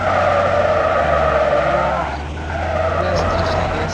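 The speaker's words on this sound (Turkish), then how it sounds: "Ben drift atarak geleceğim." Car drifting in a street racing video game: sustained loud tire squeal over a steady engine drone, briefly easing midway before screeching again, alone without talk.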